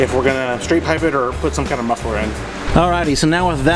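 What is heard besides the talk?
No distinct noise like a dog, phone or traffic.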